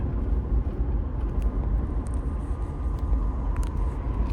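A Chevrolet Impala SS with a stock LT1 engine launches hard in first gear, giving a loud, steady, close engine roar with heavy low rumble and no pause.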